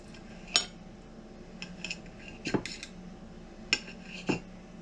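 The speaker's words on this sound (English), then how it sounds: "Get a little steak knife out. I'm gonna take a cut off one of these" Steak knife cutting into a charcoal-grilled inexpensive beef steak cooked medium rare, with several sharp metallic clinks and scrapes against a plate, spaced irregularly and fairly close.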